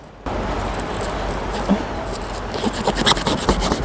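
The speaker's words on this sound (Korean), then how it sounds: "지느러미 자르고" Fins being cut from a freshly caught fish by hand, heard as close rubbing and rasping scrapes with a few sharp snips near the end, with no talking.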